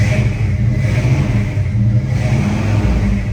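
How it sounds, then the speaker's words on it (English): A 1955 Chevrolet 3100 pickup's V8 exhaust rumbles steadily through its tailpipes, a loud, close, deep idle-to-rev burble holding even for a few seconds with no talk. "But the sound those tailpipes make,"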